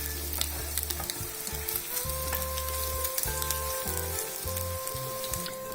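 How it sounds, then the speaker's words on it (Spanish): Meat patties for tortas de carne browning in a hot pan, a steady close sizzle and crackle with sharp pops scattered throughout, no voices. "Las vamos a dorar muy bien por ambos lados."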